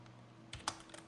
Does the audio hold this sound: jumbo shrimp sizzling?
no